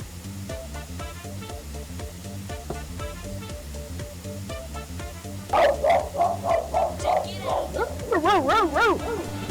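Dog barking and yipping in quick bursts with whimpering, fairly loud and close, the barks growing busier and more excited toward the end over a steady background of music or tones.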